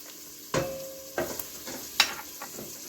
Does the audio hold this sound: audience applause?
no